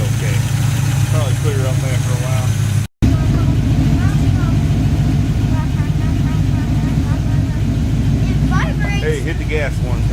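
A 1955 Chevy truck engine idles steadily with a faint lifter tick, a close, even rumble with voices talking over it.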